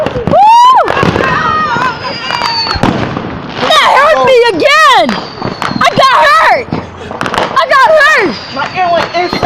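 Fireworks popping and crackling outdoors in repeated loud bursts with whistling rising tones, while excited voices talk and exclaim throughout.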